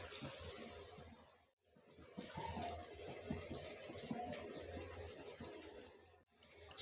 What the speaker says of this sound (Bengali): এবার আমি পানি দিয়ে দিব সেদ্ধ হওয়ার জন্য।